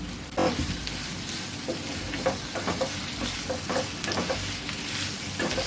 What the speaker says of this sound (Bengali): চিকেনটা একটু প্রথমে ভাজা ভাজা করে নিলাম